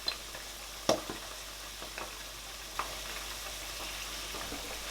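Tomato frying in a pan for Nigerian vegetable soup, a soft steady sizzle close by, broken by a few light utensil clicks and taps.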